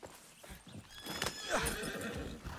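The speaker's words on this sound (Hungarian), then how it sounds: "Azt figyeljétek, ki lehet kötni a lovat?" A horse in the Far Cry 6 video game whinnies loudly up close, with hooves clip-clopping steadily beneath the neigh.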